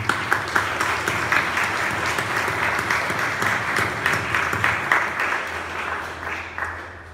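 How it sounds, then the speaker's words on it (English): A church congregation claps steadily for several seconds, a warm, sustained round of applause that thins out slightly toward the end. "A round of applause, I think, is called for."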